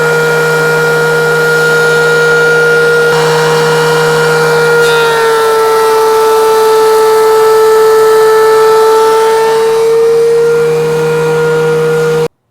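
DeWalt DW735 planer fitted with a Shelix cutterhead running a pass on wood, a loud, sustained high whine with a few shifts in tone as the board feeds through, alone with no talking.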